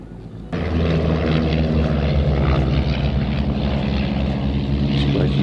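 A propeller aircraft at an air festival pulls a loop into a wingover, its engine bursting in loudly and then holding a strong, droning buzz with slowly shifting pitch as it arcs overhead.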